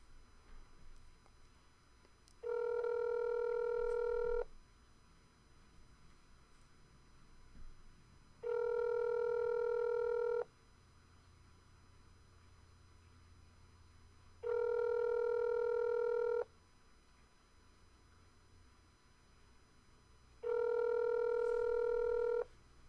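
Ringback tone on an outgoing phone call, four evenly spaced two-second rings with long pauses between them, heard clearly over a low background hum.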